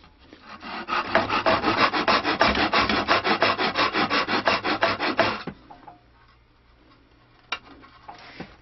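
A Japanese pull saw cuts wood for a stick dulcimer neck in about twenty quick, even rasping strokes. The sawing then stops, leaving quiet with a couple of faint knocks.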